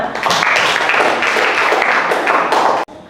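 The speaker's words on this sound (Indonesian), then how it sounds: "Tepuk tangan untuk semuanya." A classroom group of students applauds together after finishing a pretest game, close, busy clapping mixed with a few taps and thumps before stopping abruptly.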